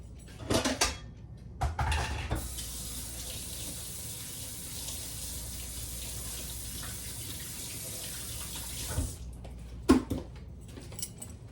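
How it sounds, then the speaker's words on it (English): A kitchen tap runs steadily for several seconds while hands are washed under it, bracketed by clattering handling noises before the water starts and after it shuts off. "Let me wash my hands."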